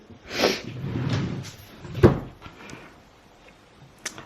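A drawer of a baby's changing table slides open with soft rumbling scrapes and a sharper knock partway through, followed by quieter handling noises in a room.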